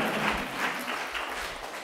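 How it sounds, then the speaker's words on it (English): Audience applause after a talk, a steady dense wash of clapping from a room full of people, sustained at even loudness for the whole stretch with no voices over it. "You can clap."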